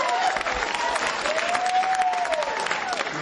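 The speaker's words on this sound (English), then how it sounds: "Give Maritza another round of applause." Crowd applause at a Tim Kaine campaign rally in Daytona Beach, Florida, a dense, continuous roar of clapping with cheering and a rising and falling whistle running through it.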